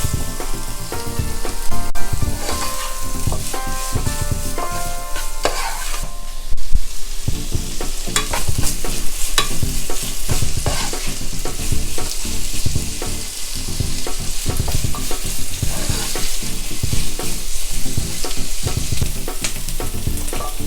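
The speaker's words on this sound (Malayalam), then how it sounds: "ഉള്ളി ഒന്ന് വഴന്ന് വരട്ടെ." Onions sauté in a pan for Malabar-style chicken mulakittathu. A loud, continuous sizzle fills the whole stretch, with frequent clattering stirs and spatula scrapes against the pan.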